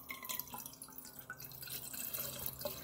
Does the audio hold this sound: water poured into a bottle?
yes